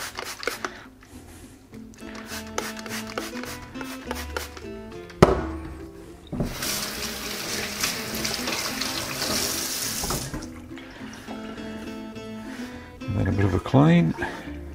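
Vinegar is applied to the rind of a Kefalotyri cheese, with a rushing splash of liquid in the middle and wet rubbing and dabbing sounds before and after, heard close.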